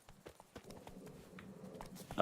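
Roach, Geralt's horse in the video game The Witcher 3, gallops with quick, fairly faint hoofbeats, ending in a louder burst of noise.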